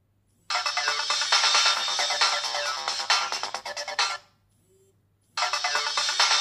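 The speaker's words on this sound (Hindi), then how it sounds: "आपकी वॉच में टोन बजेगा, वाइब्रेट होगी और आपकी वॉच का डिस्प्ले ऑन हो जाएगा।" Find-my-watch alert tone from a Boat Wave Electra smartwatch: a loud, bright repeating ringtone playing for about four seconds, a brief pause, then starting again, with no talk over it.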